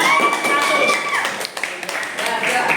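Classroom applause for a group of students, a brief burst of scattered claps and taps, mixed with voices and a high whistling tone.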